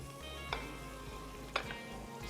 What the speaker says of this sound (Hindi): चिकन हमने सौते कर लिया है, प्याज शिमला ये 2 चीज़ें इसमें गई